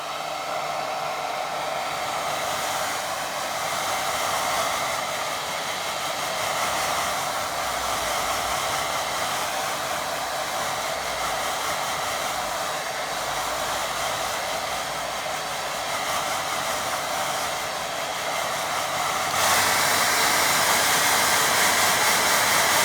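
A hair dryer blows steadily on a watercolour painting of a little white house, a loud continuous whooshing roar that holds even throughout and swells slightly louder near the end.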